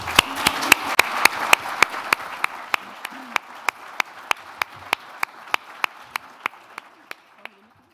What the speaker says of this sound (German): Herzlichen Dank. Applaus.